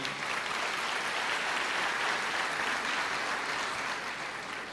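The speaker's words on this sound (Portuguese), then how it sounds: "Salva de palmas a ela também." A church congregation claps steadily in a continuous, dense burst of applause that fills the space at even loudness throughout, with no voices rising above it.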